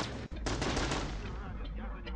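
Rapid automatic gunfire from infantry fighting in a Chechnya 2005 combat video game, a dense continuous burst of shots with a brief gap near the start, loud and close.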